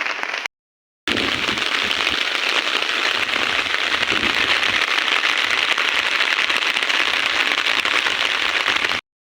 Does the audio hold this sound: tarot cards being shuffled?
no